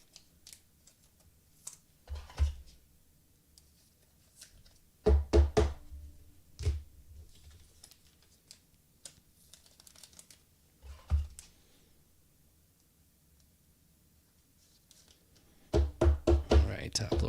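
Close handling of a Topps Allen & Ginter trading card, slid into a top loader and a sleeve, as scattered plastic taps, knocks and rustles, quiet between bursts and denser at the end.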